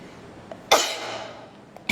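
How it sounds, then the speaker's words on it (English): A single sharp sneeze bursts out loudly, then trails off into a breathy exhale, with quieter room sound around it. "I'm going to sneeze, I'm sorry."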